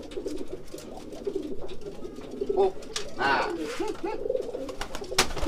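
Racing pigeons coo repeatedly in soft, rhythmic rolls close by, under someone talking.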